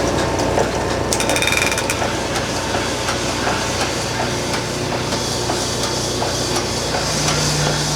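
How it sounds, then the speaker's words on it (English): Torque plate being unbolted and lifted off an engine block during a rebuild, with metallic clanks, ratcheting and tool clatter over a constant hissing background, close and busy throughout. "let's take the torque plate off"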